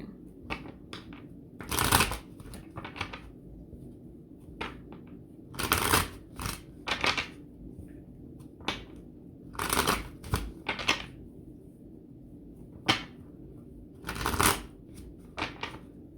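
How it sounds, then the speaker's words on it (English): Tarot cards being shuffled in bursts, the riffles landing about every four seconds with soft handling rustles between them, close and alone with no talk. "I'll shuffle over here."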